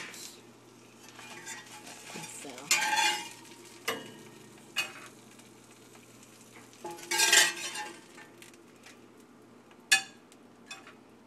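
Haitian fried chicken pieces crackle in hot oil with a steady low sizzle, broken by several louder bursts of spattering and the clink of metal utensils against the pan.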